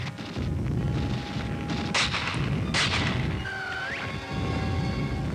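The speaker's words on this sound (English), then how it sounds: "Grenade, Lorimer" A grenade explodes in a 1943 British Army war film, with two sharp, loud blasts in quick succession followed by a brief whistling tone over a constant hiss of old soundtrack noise.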